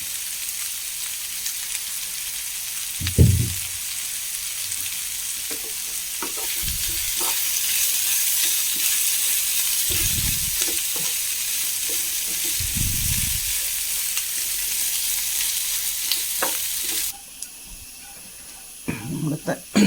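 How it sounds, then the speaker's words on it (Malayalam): Sliced bitter gourd and onion sizzle in a hot pan for a bitter gourd theeyal, a loud continuous frying hiss broken by several dull stirring thumps, before the sizzle drops away near the end. "ഒന്ന് വറുത്തെടുക്കാം"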